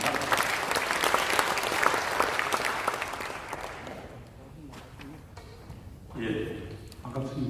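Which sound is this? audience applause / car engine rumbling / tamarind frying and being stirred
audience applause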